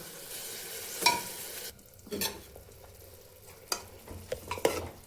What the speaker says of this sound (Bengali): মাটনটাকে একটু সময় নেড়ে চেড়ে নেবো এই জলের মধ্যেই জলটা ফুটে উঠেছে